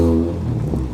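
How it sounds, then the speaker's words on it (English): A rotary-engined classic car with Lotus-like styling and a high-revving engine, badged Rotus, at a classic car show, idling loud and close with a buzzing, throbbing note that wavers. "So a very high revving engine there."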